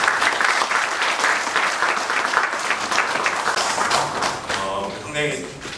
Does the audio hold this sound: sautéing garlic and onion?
no